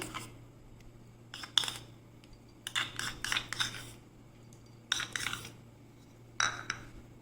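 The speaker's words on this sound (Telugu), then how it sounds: "దీని మీద పిజ్జా సాస్ వేస్తున్నాను." Spoon spreading pizza sauce over a pizza base, heard as short bursts of metal scraping and clinking in several separate strokes, close up and alone over a low steady hum.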